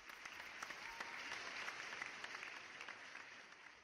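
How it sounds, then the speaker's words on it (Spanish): Audience applause at a Pro Marketing Day conference on SEO, a dense, steady wash of clapping from a seated crowd lasting the whole stretch at fairly low level, with no one speaking. "Un aplauso."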